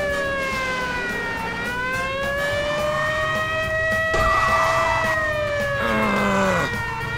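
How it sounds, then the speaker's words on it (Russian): A wailing police siren from the Cars video game, sweeping up and down steadily over a low engine rumble throughout, loud and continuous. "Сирена."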